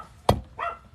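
A dog gives a single sharp bark, close and loud. A fainter, higher yip follows a moment later.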